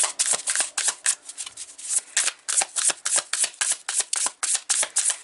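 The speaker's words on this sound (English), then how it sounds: "I'm going to pull some more cards." A tarot deck is shuffled by hand in a close, crisp series of rapid riffling bursts, repeating rhythmically over several seconds with brief pauses between them.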